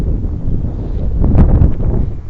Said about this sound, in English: Is this guarding from the wind? Quite windy.